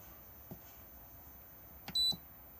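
A single short electronic beep from a campervan control panel sounds once, brief and fairly faint against a quiet background, preceded by light clicks.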